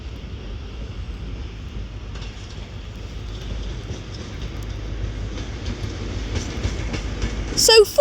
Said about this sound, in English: it is a HST. It's a class 43.